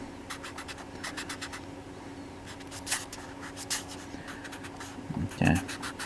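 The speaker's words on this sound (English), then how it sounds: "Let's erase the cross lines." Pencil lines being erased on paper while drawing a castle window and door, heard as bursts of soft scratchy rubbing strokes with a brief louder rustle near the end, close and fairly quiet.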